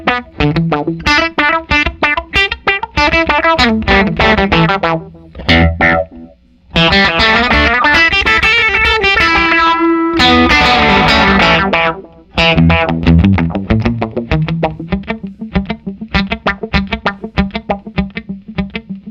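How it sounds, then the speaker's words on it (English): An electric guitar runs through an Electro-Harmonix Deluxe Memory Boy echo, its repeats swept by a Microtron envelope-filter wah. Distorted, quacking plucked phrases repeat in rhythmic bursts with brief gaps. "you'll notice that the echo comes back with a touch wah envelope filter"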